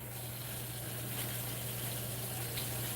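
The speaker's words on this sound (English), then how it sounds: "Hot water faucet, let it air out." Hot water faucet left running to bleed air from the line after a tankless water heater install, a faint, steady rush of water over a constant low hum.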